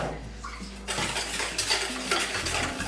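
A spoon mixing chocolate sauce with oil in a saucepan for brownies, repeated scraping and clinking of metal against the pan in an uneven rhythm, close and without talk.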